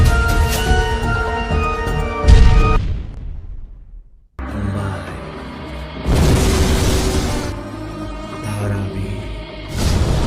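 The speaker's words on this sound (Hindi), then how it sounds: "अब होगा धमाका" Loud booming bursts with a crackling, rumbling tail ring out against a dense musical background, the first ending in a sudden drop to near silence before the noise swells again in further blasts.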